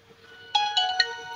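A Nokia 6600 mobile phone, just restored with SIM and battery refitted, plays a bright, clear ringtone through its small speaker, a short burst of melodic tones starting sharply and repeating close by.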